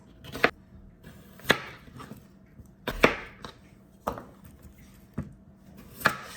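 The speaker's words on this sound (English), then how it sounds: "we're gonna just cut the potato up into bite-sized pieces" A knife chops a potato into bite-sized pieces on a cutting board for shrimp stew, with about seven sharp, irregularly spaced close thuds and no talking.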